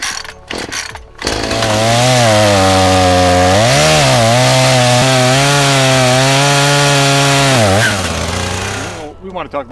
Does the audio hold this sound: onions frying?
no